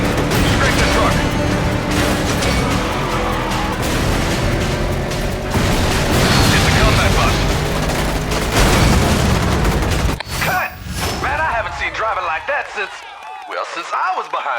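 Loud booms and crashing blasts from the driving stunt game Stuntman: Ignition, rapid and overlapping as a truck passes close to an explosion, before the din drops away into quieter rumbling and scattered noise.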